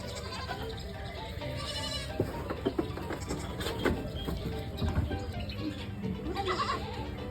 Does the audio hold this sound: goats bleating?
yes